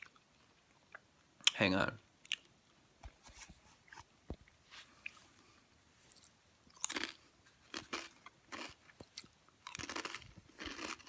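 Someone chews Doritos chips close to the mic, crunching in scattered bursts with pauses between bites, while someone talks briefly.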